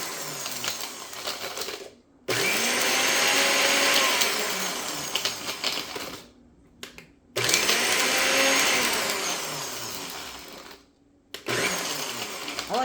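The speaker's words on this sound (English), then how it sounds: "I like to pulse it rather than just having the motor running and running and running." A kitchen blender motor pulses to grind shrimp shells, with three long loud whirring bursts separated by brief silent pauses, close and without speech.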